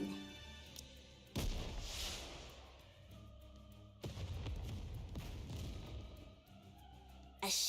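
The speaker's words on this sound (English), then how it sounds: "a shell flies from the rocket launcher. And a resounding explosion causes the entire snowfield to be blanketed in thick plumes of white smoke" A rocket launcher shell exploding on a snowfield in the game NIKKE, heard as two heavy booming blasts that each roll out into a long rumbling decay, loud and close, with a sharp hit at the very end.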